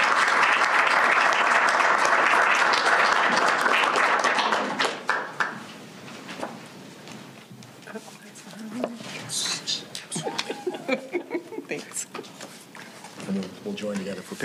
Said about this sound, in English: Let's join me in giving our school board a round of applause.